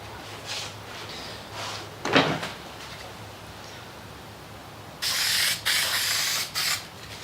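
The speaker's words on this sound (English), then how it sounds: "now I'm just gonna spray some adhesive on the back of my vinyl" Several short hissing sprays of adhesive from an aerosol can onto the back of vinyl carpet for a subwoofer box, one brief burst early and then longer sustained blasts with small pauses between them.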